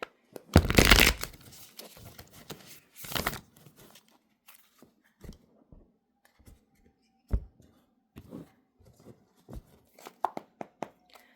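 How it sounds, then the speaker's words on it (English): Tarot cards being shuffled by hand, with two loud riffling bursts near the start followed by scattered soft clicks, taps and card handling, close and without talk. "I did not finish shuffling"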